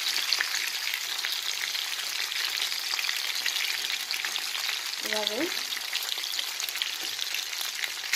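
Prawns frying in a pan give a continuous bright sizzle and crackle, steady and close, with a brief word spoken partway through.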